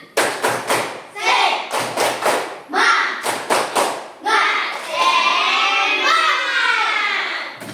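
Children in a classroom perform a rhythmic tepuk semangat clapping chant, sharp grouped claps in quick bursts alternating with shouted chanting voices, ending in a sustained cheer.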